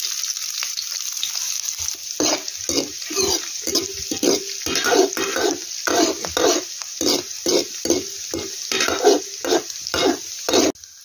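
Onion drops into garlic and cumin in hot oil in a kadhai, crackling in a loud close sizzle with repeated bursts of stirring and spattering pulses over a constant hiss.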